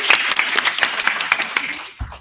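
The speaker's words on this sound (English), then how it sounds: "And a round of applause for the questmaster," A round of applause for the questmaster in a small gathering, dense clapping from a handful of people that holds steady for about two seconds and then cuts off abruptly.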